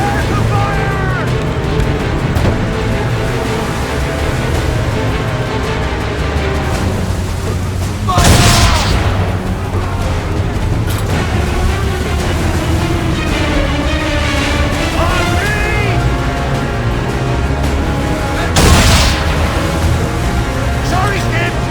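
Ship cannons fire broadside volleys in Assassin's Creed 3 naval combat, two loud booming blasts standing out over continuous battle rumble and music, with shouted voices throughout.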